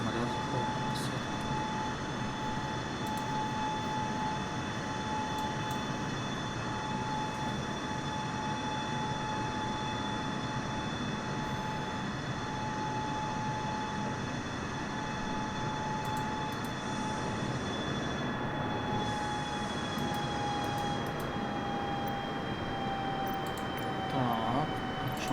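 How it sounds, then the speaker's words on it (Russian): An airliner approaches to land in Microsoft Flight Simulator 2020, its engines a continuous, even drone with steady tonal whine layered on top, holding at constant level throughout. "Там самолет заходит на посадку."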